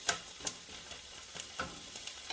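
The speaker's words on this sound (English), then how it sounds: "So I'm sauteing that." Beans sizzle and fry in a hot pan under a steady hiss, with utensil scrapes and stirring taps at irregular intervals. Nobody talks.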